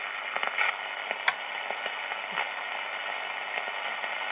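Faint, steady hiss and crackle from a Philco A3601 radio tuned to shortwave with an antenna connected, scattered ticks and pops over an even static bed.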